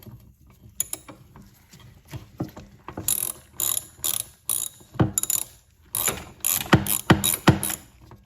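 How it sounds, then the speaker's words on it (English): Spark plug wrench with a 3/4 inch socket working a spark plug loose on a small engine of a leaf blower, weed eater, edger or chainsaw: a run of close, sharp ratchet clicks in quick bursts with metallic handling between them, no talk. "Gotta get a spark plug wrench."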